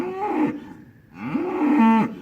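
Heifers on a cattle farm with young calves moo loudly to be fed, two long bellowing calls close by with a short pause between, no talking.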